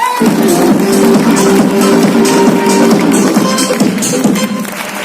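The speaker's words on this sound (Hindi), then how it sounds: "एक बार अंकल के लिए तालियां हो जाए।" Dense, sustained audience applause, a steady wash of many hands clapping throughout, fading slightly near the end.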